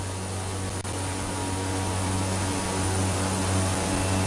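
In X-Plane 11, the right engine of a Carenado B1900D turboprop starts, giving a steady, loud whining drone with a constant low hum that holds evenly throughout, with no talking.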